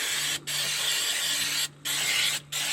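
Brake cleaner sprayed from an aerosol can onto camping-trip car brake parts in three loud, close, sustained hissing bursts separated by short pauses.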